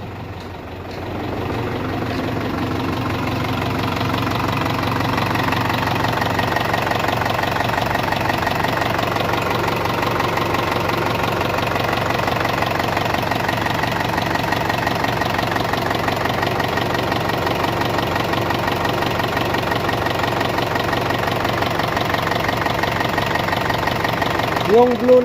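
A truck's 4HF1 engine idles with a steady, loud mechanical knocking and clatter during a top overhaul, running continuously close by in a workshop while a voice talks over it.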